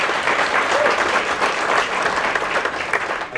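Audience applause at the grand opening of the Hackensack Performing Arts Center, a dense, steady clapping from a large crowd that carries evenly through the whole stretch.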